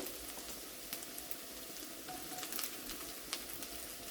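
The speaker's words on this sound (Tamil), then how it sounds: "சின்னதாக சாப் பண்ண பூண்டு அதை நல்லா பொரிய விடுவோம்" Chopped garlic frying in hot oil left over from frying prawns, giving a steady, close crackling sizzle with scattered small pops throughout and no voices.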